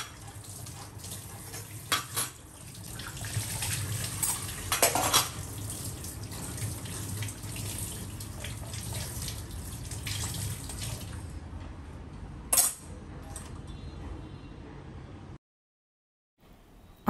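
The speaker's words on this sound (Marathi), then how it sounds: "सगळी भांडी जी आहे ती धुवून घेतली आहेत मी" Dishes and utensils are washed under a running tap, a steady close rush of water with occasional clinks. It runs loud for about fifteen seconds, then stops in a short near-silence.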